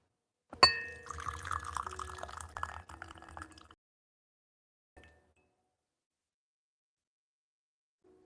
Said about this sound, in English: We are rinsing our tea.